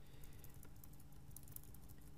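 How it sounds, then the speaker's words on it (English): Keys on a computer keyboard are hammered rapidly and repeatedly, producing a faint, continuous clatter of quick presses during game play. "The noise which you hear is me spamming the buttons on my keyboard"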